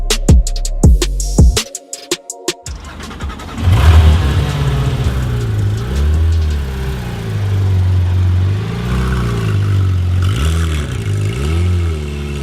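Porsche 911 GT3 RS 991 driving away after sharp clicks and clatter at the start, then the engine revs rising and falling in several loud surges close by, no talking.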